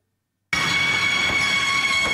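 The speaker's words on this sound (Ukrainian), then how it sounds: "Вранці туди прибув евакуаційний потяг." An evacuation train arrives at a railway station, its steady rumble rolling in abruptly from silence with faint high squeals and hum over the rails, loud and close, no voices.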